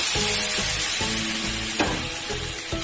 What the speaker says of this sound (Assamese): এইখিনি ভালদৰে মছলাৰ লগত আমি ভাজি ল'ব লাগিব।